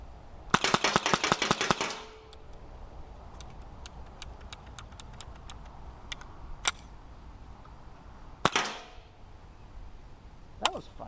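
Marlin Model A1 first-pattern rifle emptying a magazine: a fast burst of sharp, loud shots, then a few scattered single shots and one more strong crack, each ringing briefly outdoors.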